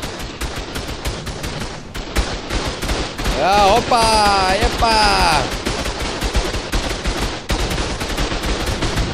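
Rapid bursts of cannon fire in ARK Survival Ascended, repeated booming shots running through most of the stretch with a louder cluster midway, while someone shouts excitedly over them.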